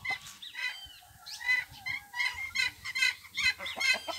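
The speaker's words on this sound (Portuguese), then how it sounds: "Aqui eu tô filmando dois galos brigando." Two roosters fighting, clucking and squawking in rapid, agitated bursts, close by and fairly loud, with scuffling flurries between the calls.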